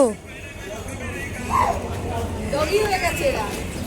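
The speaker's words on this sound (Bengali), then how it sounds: "এই রাস্তায় এরকম ঘেউ ঘেউ আওয়াজ হচ্ছে কেন" A dog barks and yelps a few times at a distance, mixed with background chatter and street noise.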